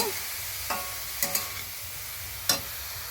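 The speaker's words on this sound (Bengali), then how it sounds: "এবার আমি বেশ কিছুক্ষণ ভালোভাবে ওই ঘির উপরে গাজরটাকে নাড়িয়ে চাড়িয়ে নেব" Carrots are stirred in hot ghee in a pan. A steady soft sizzle runs throughout, and a few sharp scrapes and clinks from the stirring utensil cut in, quiet and close.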